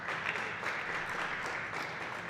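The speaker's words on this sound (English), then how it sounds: "Please come on up for your applause, Brian." Applause from the audience at a high school basketball senior night celebration, a steady moderate wash of clapping held evenly through the whole stretch with no voices over it.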